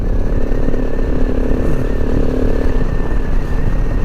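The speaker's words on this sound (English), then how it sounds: "Comes another adventure bike. Big Africa twin." A Honda Africa Twin adventure motorcycle rides past on a desert route in the Simpson Desert, its engine a loud, steady droning rumble held close throughout, with no speech.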